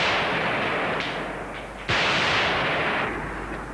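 Gunfire in 1991 news footage of fighting around Georgia's parliament, where troops fire over burning rooftops; a dense, continuous roar of shots and blasts with a sharp burst partway through, no voices.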